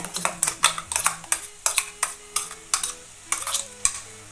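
Coconut masala for a drumstick curry frying over medium heat in a pan, with a spoon striking and scraping the metal in a quick, uneven series of close clicks over a soft sizzle. No voices.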